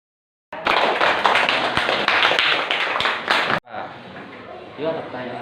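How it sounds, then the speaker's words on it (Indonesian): Classroom applause for a student, a dense burst of many hands clapping close by for about three seconds, cutting off abruptly into murmuring voices and room noise. "Untuk itu beri aplaus kepada anak kita Imdad"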